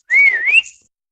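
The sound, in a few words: person whistling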